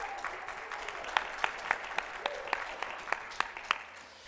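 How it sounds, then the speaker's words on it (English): A church congregation at a Sunday service applauding, scattered individual claps ringing out sparsely and unevenly over a soft murmur. "oh yes, I forgot, we're supposed to applaud"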